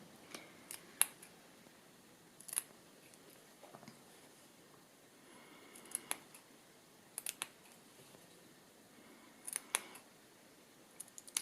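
Scissors snip repeatedly into a curved fabric seam allowance, clipping little triangles all the way around; sharp, close blade clicks come in irregular clusters over a quiet background.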